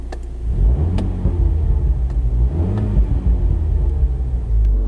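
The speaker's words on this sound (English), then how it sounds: "if I were to rev it, you can kind of see the rev counter" A 2016 Mini John Cooper Works engine revved while stationary, heard from inside the car: a deep, loud rumble rising and falling through a couple of blips.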